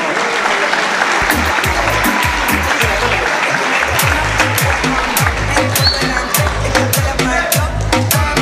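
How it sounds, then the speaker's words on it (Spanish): Spectators at a boxing exhibition applaud loudly throughout, a dense crowd clatter with recurring low thumps and sharp bursts mixed in, close and busy, and a voice partly under it. "fuerte el aplauso para esta extraordinaria exhibición"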